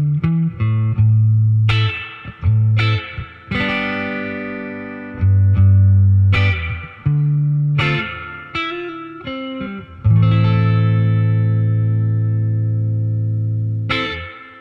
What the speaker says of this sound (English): Probably one of my all-time favorites is the Boss Fender Reverb